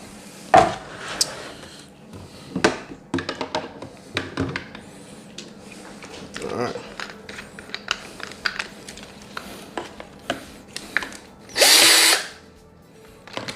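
A power drill mixes a blueberry mead base: a loud, steady whirring burst of about a second near the end, after scattered clicks, taps and handling knocks.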